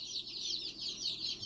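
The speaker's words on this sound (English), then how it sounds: "Make sure we get all the chicks out of the box." High, steady peeping of young chicks in a box, a continuous overlapping chorus of thin chirps close by with a faint low hum underneath.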